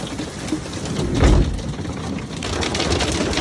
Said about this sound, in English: it's pretty noisy and scary with all this hail